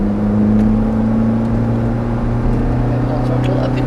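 Ferrari F430 engine pulling hard on Thruxton circuit, a loud steady droning rise with strong low harmonics held throughout under a voice.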